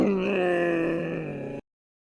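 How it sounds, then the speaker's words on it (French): A camel groans in a long, loud, moaning bellow that holds steady for about a second and a half before cutting off abruptly. "Chameau."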